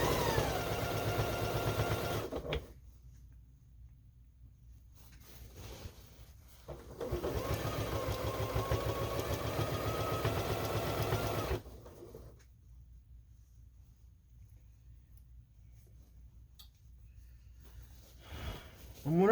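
A sewing machine stitches binding onto a first quilt in two loud steady running bursts, the first about two and a half seconds and the second about five, separated by quiet pauses.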